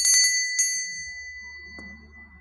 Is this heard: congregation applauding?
no